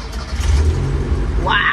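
Engine of a 1972 Toyota Corolla Sprinter, reportedly ported and polished, cranking and catching into a steady low rumble that holds close and loud throughout, with a sharper whirring burst near the end.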